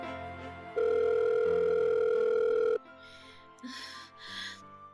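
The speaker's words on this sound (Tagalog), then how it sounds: "Sagutin niyo na ang phone." A telephone tone sounds as one long steady electronic note lasting about two seconds, followed by quieter breathy vocal sounds.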